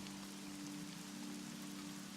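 Steady light rain falls in a forest clearing beneath a partial canopy, a soft continuous patter with an even hiss and no voices.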